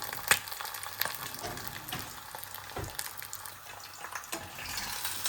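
An egg frying in a pan gives a soft, steady sizzle, broken by faint crackles and light pops, with no talking.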